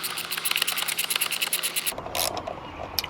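A bolt on a Jeep JL door being spun loose with a ratchet and extension: a rapid, buzzing run of clicks for about two seconds, then a pause and a few scattered clicks, close and fairly loud, with no voices.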